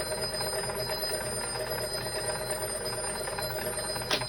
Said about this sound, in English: that running is just the generator.